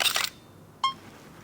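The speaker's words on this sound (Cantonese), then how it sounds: "快門聲、" Two crisp camera shutter clicks sound close by in a quiet room: a sharp, bright burst at the start, then a shorter click just under a second later, with no talking.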